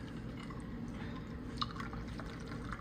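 A limoncello and peach daiquiri cocktail is poured from a shaker into a glass, a faint, steady liquid stream with light dripping over a low background hum.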